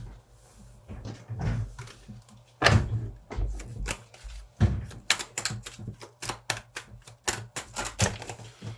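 Tarot cards spill and slap down while being shuffled, producing sharp irregular clicks and flutters that quicken into a rapid clattering run near the end, close and fairly quiet.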